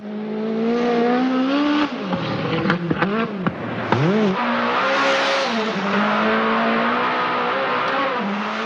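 Rally car engine revving hard as the car slides sideways on a special stage, loud and sustained with rising and falling pitch sweeps as the driver works the throttle.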